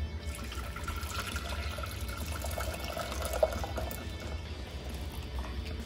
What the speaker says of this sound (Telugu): మనం హాట్ వాటర్ తీసుకోవాలండి.